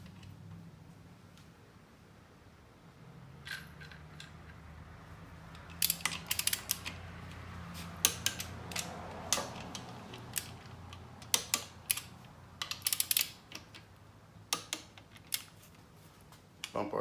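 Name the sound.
torque wrench tightening alternator bracket bolts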